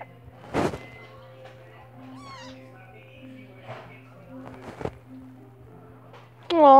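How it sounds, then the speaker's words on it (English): A small kitten meows in short, high cries, one near the start and a louder one at the end, separated by soft rustling and quiet background noise. "it's a little kitty"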